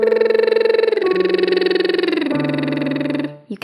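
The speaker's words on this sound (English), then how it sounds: "put the straw down and we'll sing on a lip trill" A singing voice performs a lip trill warmup, the buzzing lips carrying sustained pitches that step downward from one note to the next, heard alone and close with a brief break near the end.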